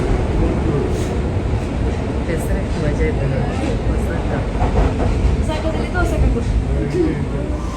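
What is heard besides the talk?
train arriving at a station in Japan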